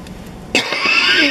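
A single harsh, close cough, like a bronchitis cough, bursts out inside a car at a COVID-19 test station after a moment of low rumbling background, trailing off into noisy breath.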